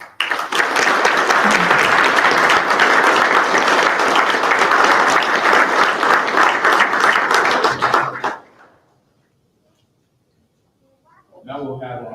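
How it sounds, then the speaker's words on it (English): A large audience at a fire rescue recruit graduation breaks into loud, sustained applause for about eight seconds, then it stops cleanly into silence before a voice starts speaking. "Let's start off with a round of applause."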